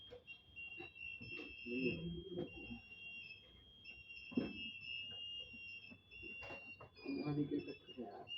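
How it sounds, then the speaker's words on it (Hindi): Faint, steady high electronic beeping tones repeat in the background while people talk over them. "वाकई में बीप हो रहा है"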